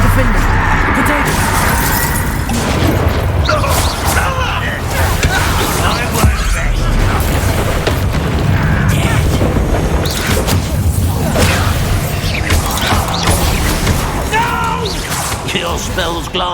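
Bombarda spell blasts thud and crash amid dense Hogwarts Legacy combat, with continuous battle noise and character voices talking over the action throughout.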